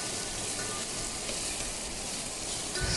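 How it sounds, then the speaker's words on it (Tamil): Spinach curry ingredients sautéed in a pan, a dense, even hiss of frying that stays steady and close for the whole stretch, with no talking. "இப்போ இதை நல்லா வதக்கிக்கலாம்"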